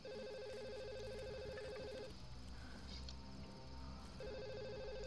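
A telephone in a Tomb Raider game rings in two electronic trilling bursts separated by a short gap, faint and set against dense game background noise, with no speech over it.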